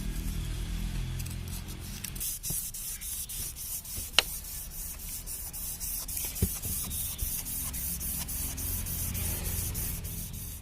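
A hard iron Honda Civic Genio engine part is sanded with 400-grit sandpaper, giving a continuous gritty rubbing hiss with a few small knocks, moderately quiet and without talk.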